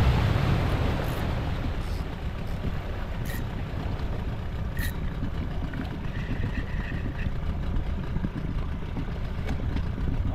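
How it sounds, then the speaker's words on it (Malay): A 15 horsepower outboard engine runs steadily on a fishing boat heading out to sea, a continuous loud low rumble and drone filling the whole stretch with no talk over it. "kali ni aku pakai dengan enjin 15 aku lah"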